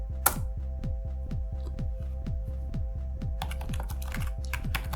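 Keys clatter on a computer keyboard as commands go into a Linux terminal, a close, even rhythm of about two strokes per second over a faint steady hum, getting busier near the end.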